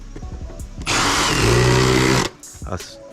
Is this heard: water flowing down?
no